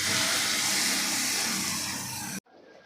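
Ground masala paste sautés in hot oil for a Maharashtrian panchbhel amti, giving a loud, continuous close sizzle and hiss that cuts off abruptly near the end, leaving faint quiet.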